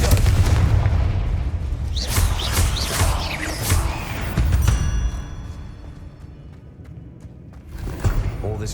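Booming Confringo spell blasts and combat impacts in Hogwarts Legacy, a dense, loud burst of explosive hits and crackling effects that fades after about five seconds, then another thud near the end.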